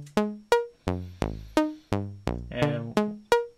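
A synth saw wave played through a Viol Ruina filter, nine bright buzzy notes in an even rhythm, each struck sharply and decaying, with the filter shifting the tone from note to note, heard alone and clean.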